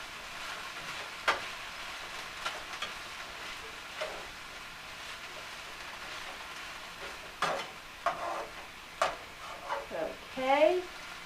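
Onions cooking in a pan give off a faint, soft sizzle, broken by several scraping stirs and knocks of a utensil that cluster toward the end, with a voice speaking at times.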